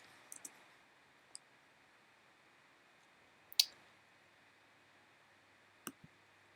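A few faint, sparse computer mouse clicks during photo editing work, single and double taps scattered irregularly over quiet background hiss.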